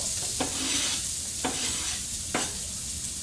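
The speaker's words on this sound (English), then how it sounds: "Ooh, I can hear a sizzle." Vegetables sizzle and crackle in hot oil in a pan, a steady frying hiss broken by a few sharp stirring knocks.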